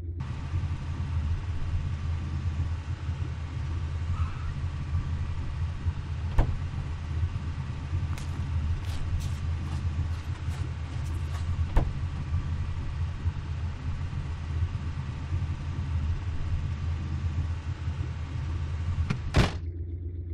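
A car interior while driving, with a low, steady engine rumble throughout and a few sharp clicks and taps over the top.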